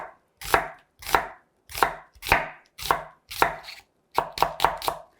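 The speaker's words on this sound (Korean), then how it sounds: "양파를 채 썰어 보도록 하겠습니다" A knife slices an onion on a cutting board, about nine sharp crisp strokes in a steady rhythm, then a quicker cluster at the end.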